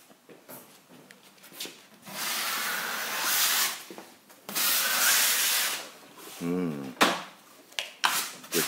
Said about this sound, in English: a massive bit of white comes out as Robert responds back with a spray can.